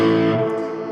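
Electric guitar through a Neural DSP John Mayer X amp plugin with the FET front boost engaged, a single distorted chord ringing loud and sustained, slowly decaying.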